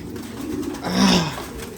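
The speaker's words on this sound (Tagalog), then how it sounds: "Gutom na to mga ibon natin" Soft, low pigeon cooing swells in the middle of the clip over a steady background hum, with no voices.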